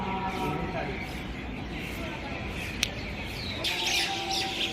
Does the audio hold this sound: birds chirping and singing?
yes